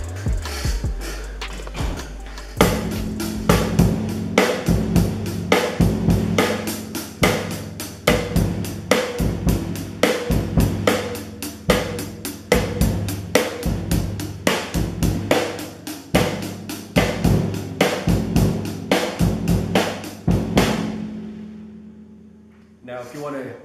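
A drum kit plays a steady, repeating beat of sharp hits at a quick, even pace, ending with a cymbal wash and a final stroke.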